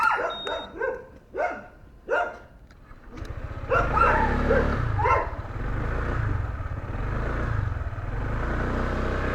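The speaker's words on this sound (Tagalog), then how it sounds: "Natakot sa maliit na tuta." A small puppy lets out a quick run of sharp, high barks up close. A motorcycle engine then idles and rumbles underneath, with a few more yips over it.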